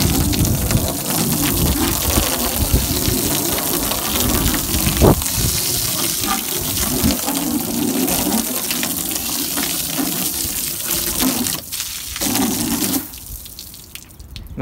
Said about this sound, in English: I'm going to rinse that side as well so you can see what just water does compared to the Salt Away.